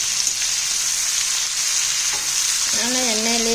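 Dried anchovies (nethili karuvadu) frying in oil, a steady close sizzle from start to end, with a short stir near the two-second mark and a brief tonal voice or sound rising over the sizzle toward the end.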